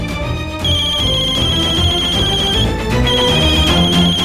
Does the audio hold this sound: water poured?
no